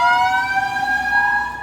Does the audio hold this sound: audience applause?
no